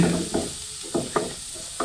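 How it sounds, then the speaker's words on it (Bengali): Papaya bhaji fries in a pan with a soft steady sizzle, broken by a few short scraping strokes of a spatula stirring the mixture. "তা নাড়াচাড়া করে"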